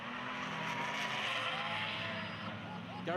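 A Porsche 924 race car slides sideways at Brands Hatch during a BRSCC race, engine roar and faint tyre squeal rising and falling under a commentator's voice.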